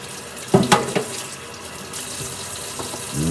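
Water runs from a tap, opening with a few sharp knocks and splashes, then settling into a steady, close hiss of flow with no talking.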